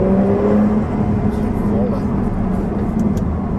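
A 2021 Porsche 911 Turbo S engine pulling hard at full throttle in third gear, a loud, steady, dense roar heard from inside the car while someone talks over it.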